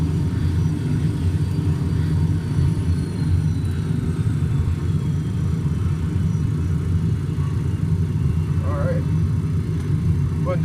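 A Sabreliner jet engine runs with power brought up, a loud, steady low rumble and roar holding constant throughout, with a faint high whine above it.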